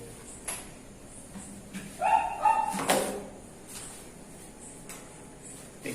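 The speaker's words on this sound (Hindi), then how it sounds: "इतना कुत्ते भौंक रहे हैं" Dogs bark and yip a few times outdoors at a moderate distance, a short cluster of calls over a steady background hum with no talking.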